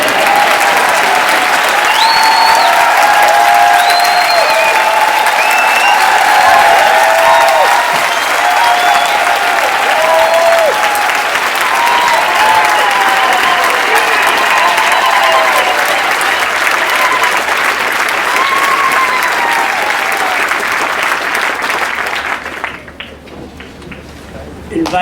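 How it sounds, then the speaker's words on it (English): Audience applauding George Bizos at a tribute to Nelson Mandela, sustained loud clapping from a large crowd with some cheers, fading sharply near the end. "let's just clap George"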